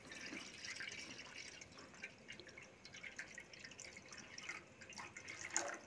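Water trickles and drips into a clay pot while preparing atole de pinole in Santiago de Anaya, a faint, steady pouring with small splashes throughout.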